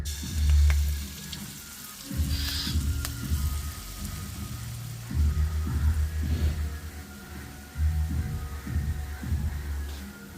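Batter for banana appam frying in a pan of oil, a steady close sizzle with bubbling crackle that rises and falls, with occasional light utensil clinks over it.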